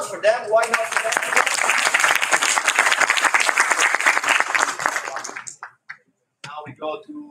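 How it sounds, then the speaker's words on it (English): Loud, sustained clapping from a conference audience at a sports and education gathering carries for about five seconds, thinning out before a short silence and a little talk. "Okay, applause for them."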